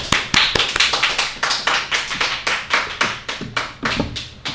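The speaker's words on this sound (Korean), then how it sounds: "우리 박수로 한번 환영하겠습니다" A church congregation claps in unison to welcome a visiting missionary before a Sunday sermon, a loud, close, steady beat of sharp claps.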